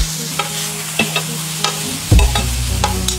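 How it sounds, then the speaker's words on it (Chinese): Green peppers pan-fry slowly over low heat, a gentle steady sizzle broken by spatula taps and scrapes, with a louder clatter near the end. "青椒上锅，小火慢煎"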